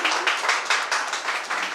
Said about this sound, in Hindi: तालियों के साथ जोरदार स्वागत कीजिए